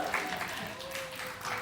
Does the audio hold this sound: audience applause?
yes